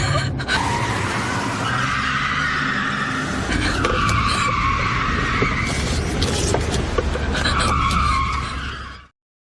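A car circles a parking lot with its tires skidding and squealing nonstop in a film scene. The loud, harsh screech rides over the engine's roar and cuts off abruptly at the end.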